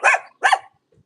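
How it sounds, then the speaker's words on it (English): A dog yaps from somewhere above: two sharp barks close together, followed by a faint whimper and then quiet. "You got a dog above here yapping away."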